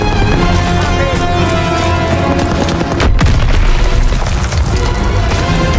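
Pole charge blowing open a bunker in Call of Duty WW2 amid a loud, dense battle, with heavy booms and gunfire throughout and a sharp blast near the middle.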